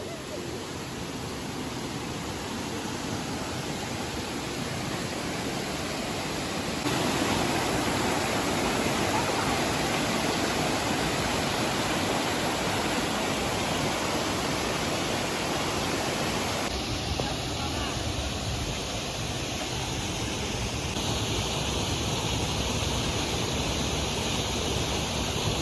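Bulalacao Waterfalls in El Nido, Palawan, a continuous loud rushing roar of falling water, close and unbroken, shifting slightly in intensity throughout.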